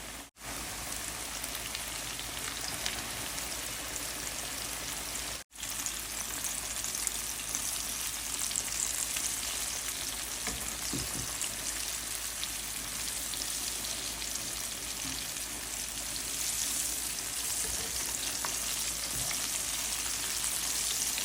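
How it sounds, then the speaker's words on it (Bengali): KFC-style chicken deep frying in hot oil on high heat gives a steady, dense crackling sizzle that stays loud and unbroken throughout, with only a brief dip partway through and no voices. "প্রথম চিকেনটা আমার দুই মিনিটের মতো আমার হাই হিটে ফ্রাই করতে হবে"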